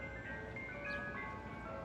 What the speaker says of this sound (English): there's another competing ice cream truck here